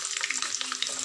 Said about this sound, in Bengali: এর থেকে বেশি আর ভাজা হবে না, কারণ পেঁয়াজগুলো পুড়ে যাবে তাহলে